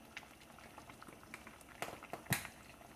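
Curry noodles bubble and simmer quietly in a pan, giving a soft, sparse patter of small pops with a few louder spits near the end. It is faint and close, with no voices.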